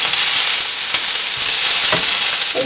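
Sliced tindora (ivy gourd) fries in oil over medium heat with a loud, steady, close sizzle and occasional faint pops.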